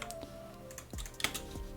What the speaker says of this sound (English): I can write Kaunas with my keyboard.